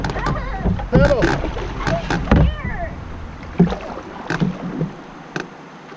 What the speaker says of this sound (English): Paddle on the right-hand side, fast.